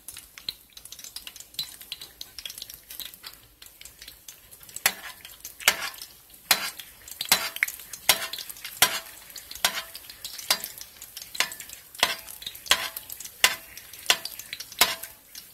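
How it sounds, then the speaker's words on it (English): Steady sizzling of egg rolls with sausage frying in hot oil over medium heat, with a regular scraping or stirring rhythm of a utensil against the pan, close and continuous. "Let's start frying."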